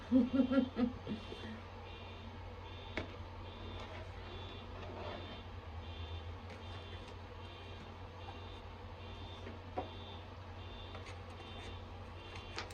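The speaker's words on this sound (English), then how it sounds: "let the alarm do the alarm thing that it's doing" A loud electronic alarm beeps in a steady, regularly repeating pattern throughout, over a constant low hum, with a few thumps at the start and no talking.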